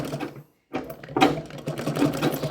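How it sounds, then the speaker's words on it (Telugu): A sewing machine stitches blouse lining with a large stitch, a close mechanical whirr that stops briefly and then resumes and runs steadily, with no voices. "పెద్ద కుట్టు వేసుకొని చుట్టూ నేను ఈ లైనింగ్ అనేది జాయింట్ చేస్తున్నాను"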